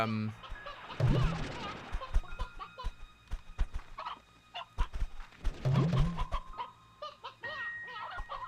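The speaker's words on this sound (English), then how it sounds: "Oh, no, there's a briar hen in here." Briar hens and chickens on a ranch in the Slime Rancher 2 video game, clucking in repeated bursts with a couple of louder squawking calls, close and busy, with a voice speaking between them.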